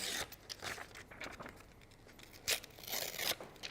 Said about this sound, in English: all I'm going to do now is I'm going to rip this down